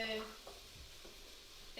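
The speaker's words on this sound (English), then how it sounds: "So we're just stir frying that for a couple of minutes." Vegetables stir frying in a pan while tomato soup is being prepared, giving a faint, steady sizzle with light scraping and stirring, close by and quiet, with no talk over it.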